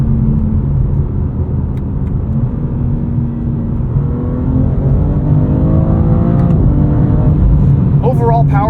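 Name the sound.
BMW M2 CS engine revving during paddle-held downshift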